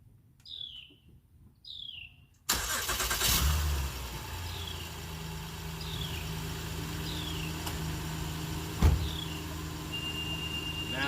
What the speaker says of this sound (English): I just turned this here car on.